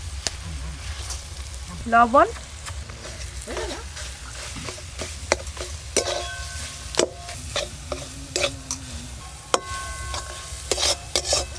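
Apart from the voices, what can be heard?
ginger and green chili frying, lentil paste stirred in pan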